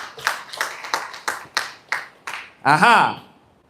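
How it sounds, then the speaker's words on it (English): Several sharp hand claps in an uneven rhythm, close by, ending in a short burst of voices. "Let's clap for him as he goes to sit."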